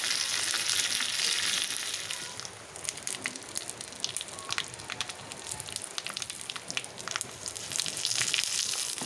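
Garlic sizzles in hot oil for a South Indian tempering: a steady, fairly quiet crackle with sharp pops and spits scattered across the whole stretch.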